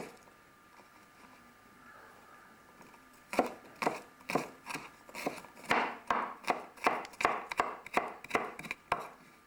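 Garlic being chopped finely on a board: after a quiet start, a run of sharp, close knife strikes falls in a fairly regular rhythm, speeding into quick successive chops.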